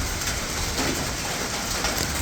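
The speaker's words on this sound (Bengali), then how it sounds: "ডেরাস নেচার ক্যাম্পে খুব বৃষ্টি হচ্ছে" Heavy rain pours at night at Deras Nature Camp, a dense, steady wash of falling water heard alone for a brief moment.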